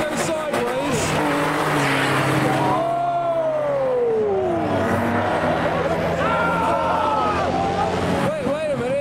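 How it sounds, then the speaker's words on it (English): BMW E36 Compact drifting sideways at a car meet, engine revving hard with long rising and falling tire squeals, loud and continuous, under crowd chatter. "I know that this E36 Compact is going to go sideways."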